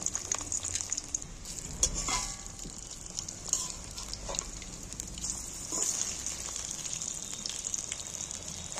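Fish and Maggi cutlets frying in a pan make a steady, close oil sizzle with a bright hiss throughout, broken by occasional scraping and stirring clatter as the pieces are turned.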